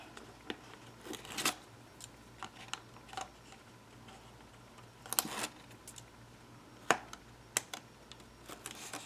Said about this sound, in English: and then I'm going to peel the rest.